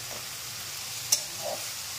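Turmeric sizzles steadily in a hot pan, with a soft clink of stirring partway through, close and even.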